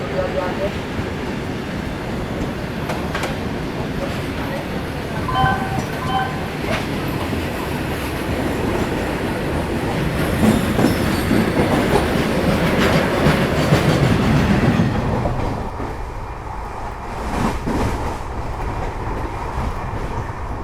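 An Amrit Bharat Express passenger train from Darjeeling to Bengaluru runs along the tracks, giving a loud continuous rumble with rhythmic clickety-clack from the wheels that eases toward the end, with faint voices at times.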